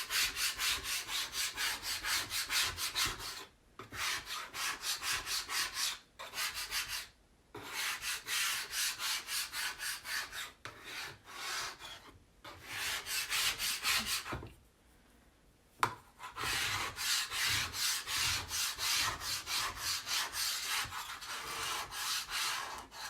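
A scraper rasps chalk paste off a stencilled board in quick, rhythmic rubbing strokes. The strokes come in bursts with short pauses between them, close and moderately quiet, with no talking.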